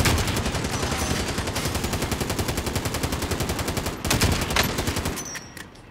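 Rapid automatic gunfire in a shooter video game rattles in a fast, even stream of loud shots, breaks briefly, then resumes in a final burst before cutting off.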